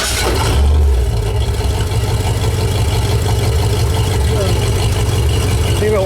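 A freshly rebuilt 370 engine in a 1968 Ford LTD cranks and settles into a loud, steady rumbling idle close by, with the rear end left spinning; voices are faintly present.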